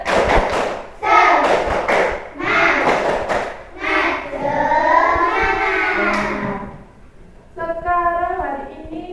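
A primary school class runs a rhythmic 'tepuk semangat' clapping routine, with patterned hand claps and thuds mixed into loud chanting children's voices.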